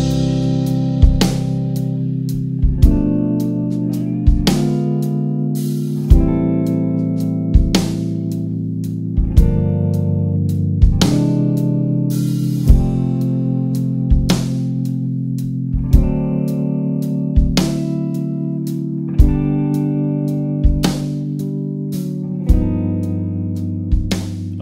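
Electric guitar with effects strumming a chord progression of secondary dominants and ninth sharp-five chords, each chord struck and left ringing in a steady, evenly paced sequence, close and alone.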